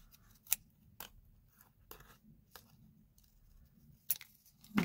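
Scissors cutting a paper envelope: several sharp, separate snips spaced unevenly, close and crisp against near silence, with no talk.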